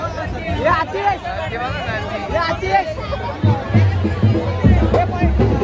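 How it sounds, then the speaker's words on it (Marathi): Dense crowd hubbub at a Narali Purnima rally of the Agri Koli community, a steady babble of many overlapping voices with low drumming or vehicle rumble swelling toward the end. "गर्दी बघा सोन्याच्या बरोबर गर्दी"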